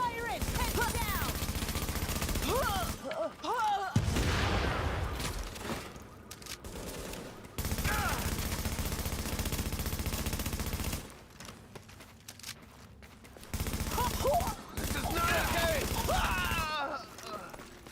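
Gunfire in The Division video game rattles in loud, close bursts of automatic fire broken by short pauses and a quieter stretch, with shouted in-game voices heard between volleys.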